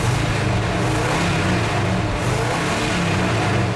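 A tall deck big block engine revs and roars loudly and close, a dense steady rumble held for a few seconds without talk.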